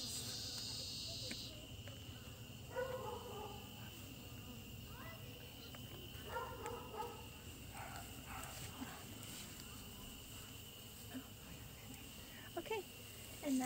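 Honey bees buzz steadily around a backyard hive fitted with robber screens, a dense, continuous drone with faint scattered clicks and rustles, no voices.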